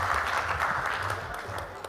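An audience at a national ICT job fair launch event applauds, a dense wash of clapping throughout under faint background voices.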